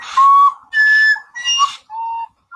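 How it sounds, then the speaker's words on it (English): A recorder played badly in a classroom setting, four shrill, wavering tones in short separate bursts with brief gaps, loud and close with no voices. "Someone is playing the recorder."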